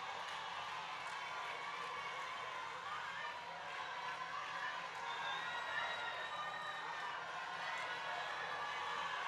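A crowd at a town hall meeting in St. Thomas, Jamaica, keeps up a faint, distant wash of applause and murmur that runs evenly throughout without a clear peak.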